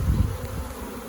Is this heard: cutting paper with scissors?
no